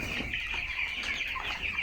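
Broiler chickens crowded to the cooler side of a shed keep up a faint, continuous chorus of soft clucks and peeps, steady throughout with no voices.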